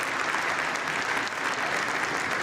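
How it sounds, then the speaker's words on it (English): Sustained applause fills the US House chamber, a thick unbroken patter of many people clapping at an even, loud level throughout. "That's why they're all clapping,"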